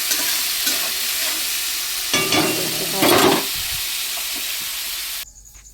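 A ginger, garlic and chilli paste sautéing in oil gives a loud, steady close sizzle with a few stirring scrapes, then drops abruptly to near silence at the end.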